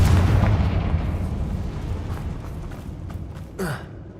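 A Confringo blast spell detonates in Hogwarts Legacy, a heavy booming burst at the start that trails off into a fading rumble, with a softer whooshing effect near the end.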